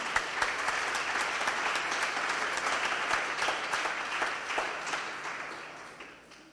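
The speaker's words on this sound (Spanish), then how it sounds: "Dele el aplauso al Señor." A church congregation applauds during a sermon, giving praise to the Lord: steady, moderately close clapping from many hands that holds for several seconds and then gradually thins out near the end.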